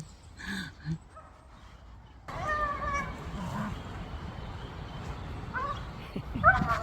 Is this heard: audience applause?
no